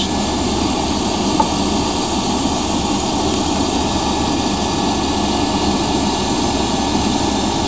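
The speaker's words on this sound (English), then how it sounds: "Got a lot of flame in there now." A newly installed gas tankless water heater's burner fires with a strong flame, giving a loud, steady roar that holds evenly throughout with no voices.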